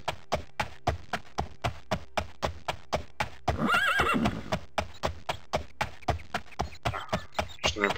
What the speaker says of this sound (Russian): Что мне показалось, что лошадь встрепенулась